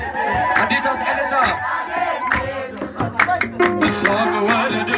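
A crowd sings an Eritrean Orthodox Tewahedo hymn with loud, shrill ululation and rhythmic clapping, all of it close and energetic.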